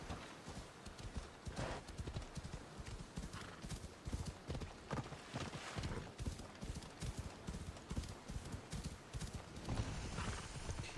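A horse gallops in the video game Assassin's Creed Odyssey, with steady rapid hoofbeats, a brief whinny and constant outdoor ambience.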